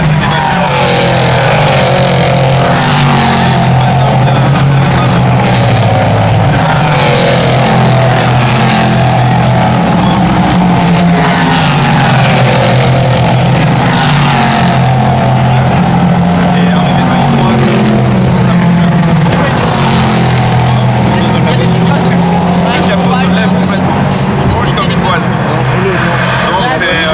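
Race cars roar past on a track during a Le Mans road racing event, a loud continuous engine drone with repeated rising and falling passes and occasional louder surges throughout.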